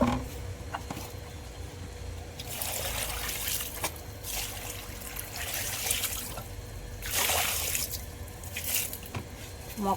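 Water poured onto a newly planted plant splashes and trickles in several short bursts over a quiet outdoor background.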